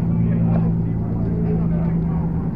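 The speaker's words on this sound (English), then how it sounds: "Aston Martin's Vanquish is pulling up" An Aston Martin Vanquish rumbles as it pulls up at a car meet, a steady low engine drone nearby while someone talks over it.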